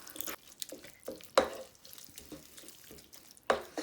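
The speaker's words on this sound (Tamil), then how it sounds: "ஸோ இது கூட வந்து நான் கொஞ்சம் தண்ணி ஆட் பண்ணுறேன்." Water is poured into masala frying in a pan for a potato and peas curry, giving quiet splashes and drips with a couple of sharper sizzling bursts, close and soft, no talking.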